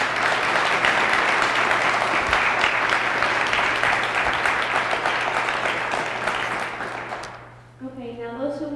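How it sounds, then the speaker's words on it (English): A roomful of listeners at a genocide survivor talk gives a sustained round of applause, many hands clapping densely before the clapping thins and fades near the end, giving way to a voice. "Can you please give them another round of applause to them?"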